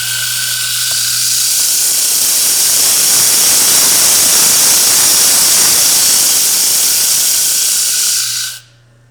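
A brand new 80 grit disc grinding a hard stone cabochon, a loud steady high hiss with a whining tone that holds for about eight seconds before cutting off abruptly.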